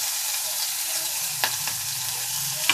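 Small fish fry in oil in a wok with a steady, dense hiss. A couple of faint clicks from the pan break in near the end; close and fairly loud, with no voices.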